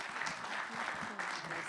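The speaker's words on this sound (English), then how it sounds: "Can we give them all a round of applause for this tonight?" Applause from the crowd at a Brentwood, California city council meeting, a steady mass of clapping at low level with faint voices mixed in.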